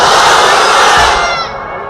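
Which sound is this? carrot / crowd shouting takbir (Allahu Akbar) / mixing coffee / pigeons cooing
crowd shouting takbir (Allahu Akbar)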